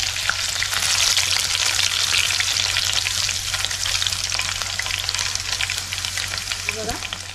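Garlic fries in hot oil in a kadhai as part of a mustard-seed and curry-leaf tempering, giving a loud, continuous close-up sizzle with fine crackling throughout and a low hum beneath.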